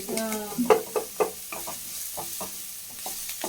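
Onions frying in oil while being stirred for homemade street-style Gobi Manchurian: a steady close sizzle with scraping stir clicks and knocks of a spoon against the pan.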